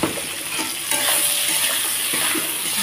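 Pointed gourd is stirred in a pan of hot spice tempering for shorshe potol, giving a steady sizzle with soft scraping and stirring noises close by.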